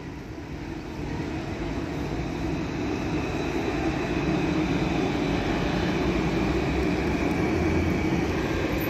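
Tram running along its track: a continuous, steady rumble with a dense rattling texture that swells slightly after the first second and holds at a constant level, no speech.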